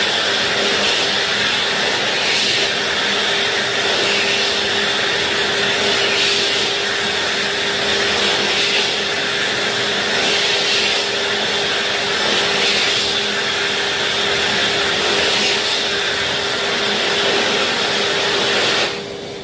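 An ATC Tiger Eco HEPA electric hand dryer blows in a steady, loud roaring whoosh with a fixed hum, running alone without pause until it cuts off at the very end.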